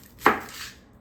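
A single knife chop through a Vidalia onion on a cutting board, one sharp close hit that fades quickly, with no talking.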